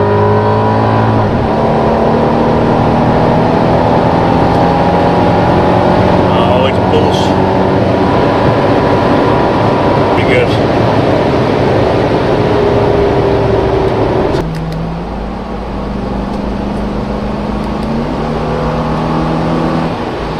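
A Mercedes CL55 AMG W215 accelerates hard, its engine roaring loudly and rising in pitch through the gears with a clear shift partway through, while someone talks over it.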